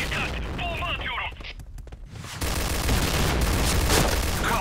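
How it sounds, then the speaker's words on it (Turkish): A bomb thrown in a video game goes off partway through with a sudden broad boom that settles into a sustained rumble, following a stretch of talk and game noise. "Dikkat, bomba atıyorum."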